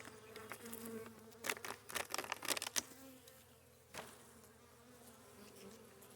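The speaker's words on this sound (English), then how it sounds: "Several frames of bees there though." A steady hum of honey bees buzzing close by during a spring hive inspection, with scattered sharper knocks and rustles as frames are handled.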